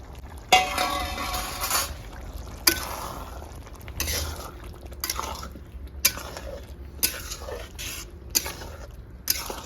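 Fried lobster prawns are dropped into boiling gravy and stirred, with a steady simmering bubble beneath sharp clinks and scrapes of a utensil against the pan, recurring at irregular intervals.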